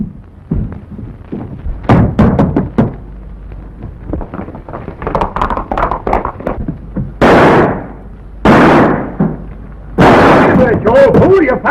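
Gunfire from a 1922 western film about riders of the law, with several loud, sharp broadband blasts in the second half following a stretch of clattering, busy sound, some of it voice-like.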